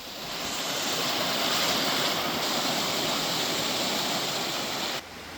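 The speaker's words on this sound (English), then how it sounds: "There's a couple of different streams around here, a few waterfalls." A stream rushes steadily through the Rivelin river valley near Sheffield, a loud, continuous close-up wash of water with no voices, ending slightly quieter near the end.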